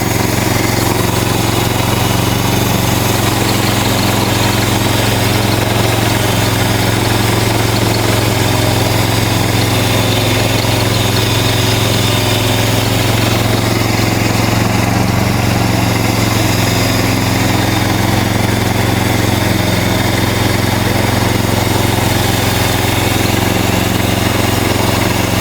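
A MechMaxx sawmill engine runs loud and close while the mill saws cedar into live-edge siding. It gives a constant droning hum with a steady vibration throughout, and no voices are heard.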